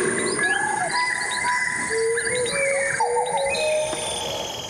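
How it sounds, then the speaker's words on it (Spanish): Several birds recorded in Colombia sing and chirp over one another in a dense natural chorus, with whistles, trills and short calls at close to moderate range over a faint insect background. "Y grabamos más de 700 aves"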